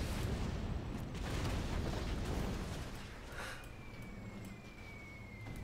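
A fuel bomb explosion in the strategy game C&C Generals Contra roars as a dense, sustained blast of rumbling fire and debris, then gradually thins into crackling burn and a faint whistling tone.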